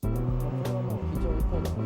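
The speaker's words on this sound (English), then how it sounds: "I'm simply turning the car only with the gas pedal." A Toyota AE86 Corolla's engine revs hard and fluctuates under throttle while drifting, steered on the gas pedal, as a voice talks over it, with occasional tire noise as the car slides.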